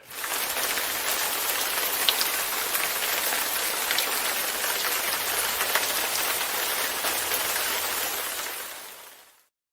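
Steady rain pours down on a surface for the whole stretch, a dense even hiss with scattered drop impacts and no voices, cutting off at the end.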